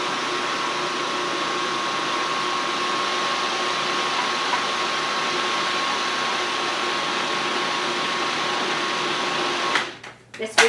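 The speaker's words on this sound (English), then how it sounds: "This food processor does a really great job." An electric food processor whirs steadily as it blends a sweet potato fritter mixture with a teaspoon of salt, running loud and continuous for about ten seconds before cutting off abruptly near the end.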